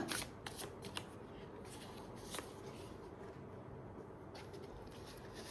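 Tarot cards are shuffled by hand, a soft, continuous papery riffling with a few sharper snaps, close and quiet with no voices.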